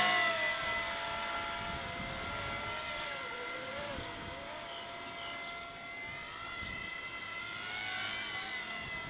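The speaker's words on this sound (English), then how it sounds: "So you can hear that tail whizzing away, hanging on to that 26-27 motor." The tail rotor of a Ken Luo 230S radio-controlled helicopter on a 2627 motor whizzes in a breezy outdoor setting, a steady high whine layered with buzzing harmonics that wobble slightly in pitch. It holds at a moderate distance throughout.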